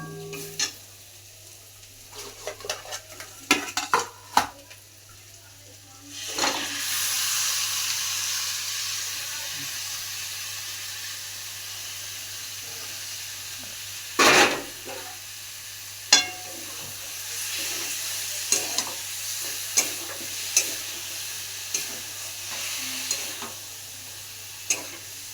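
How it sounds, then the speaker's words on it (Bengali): Chicken pieces stirred and fried in cooked-down spice paste for a jackfruit chicken curry, a sudden loud burst of sizzling and steam hiss that settles into steady frying, punctuated by scraping spatula knocks. "এইবারে চিকেন কষা হবে। চিকেনটার মধ্যে দিয়ে দাও।"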